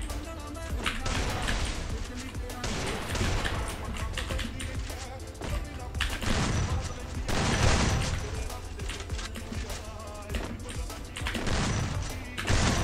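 Rapid bursts of gunfire in the Garena Free Fire mobile battle royale, including an AWM sniper. Loud shots crack out again and again in clustered volleys over a dense game soundscape, with a player talking over the action.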